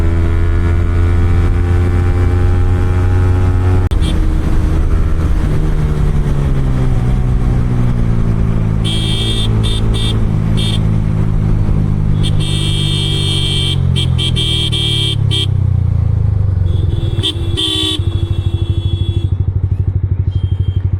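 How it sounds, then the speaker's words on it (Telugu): Yamaha R15 motorcycles on a weekend group ride, a loud continuous engine drone with shifting revs and passing traffic, horns and wind, exhaust pops not clearly separable from the engine noise. "లైట్గా మన ఎగ్జాస్ట్లో రన్నింగ్లో పాప్స్ అయితే వస్తుంది."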